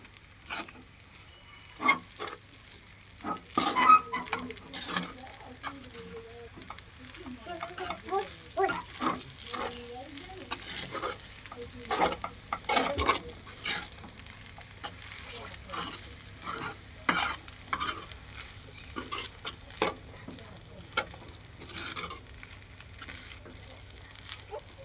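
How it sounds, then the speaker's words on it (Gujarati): Poha being stirred and mixed in a pan for bateta poha, with repeated scraping spoon strokes and light tapping over a soft, close sizzle; no one speaks. "આ રીતના હલાવીને મિક્સ કરી લેવાના પૌવાને"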